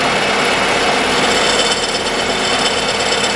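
A G-clamp handle rattles continuously against the workpiece on a milling machine taking a cut while making a magnetic V block, a dense metallic buzz under steady machining noise.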